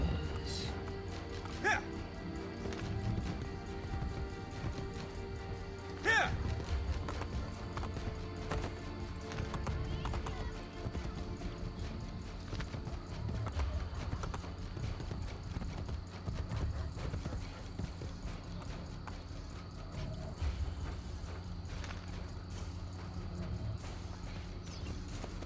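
Horse hooves clip-clopping steadily at a trot in Assassin's Creed Brotherhood, with occasional whinnies and ambient game sounds underneath.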